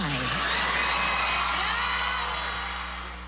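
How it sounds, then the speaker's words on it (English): A fake crowd cheering sound effect gives a steady wash of cheers and whoops that slowly fades toward the end. "let's crank up the fake cheering"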